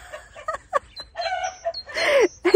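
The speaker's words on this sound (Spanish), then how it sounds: "la gallina esta me está haciendo la competencia." A hen clucks close by in a sunny backyard garden, making a string of short, uneven clucks that end in a louder drawn-out squawk.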